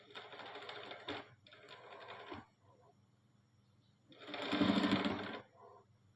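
Sewing machine stitching fabric, running in bursts: about two short runs, a pause, then a longer loud run and a brief final burst, close and clear with no talking.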